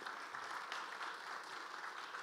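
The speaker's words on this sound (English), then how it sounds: "You can clap." Faint, steady applause from an audience at a civic downtown update presentation, a soft wash of distant clapping heard from afar for a couple of seconds.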